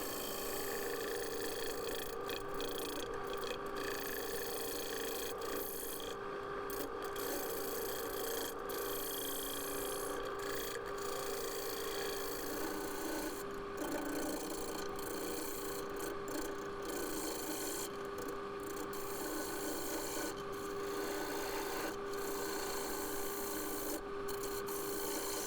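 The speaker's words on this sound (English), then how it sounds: "Half-inch bowl gouge." Half-inch bowl gouge cutting a 20-inch wooden platter spinning on a lathe at about 425 RPM, a steady close scraping hiss over a constant motor hum, with no talk.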